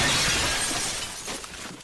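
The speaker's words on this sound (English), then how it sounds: "That was supposed to be people gasping, and you hit glass breaking." Glass shattering as a sound effect, a loud broadband crash that fills the whole clip and tails off over about two seconds, with no voices.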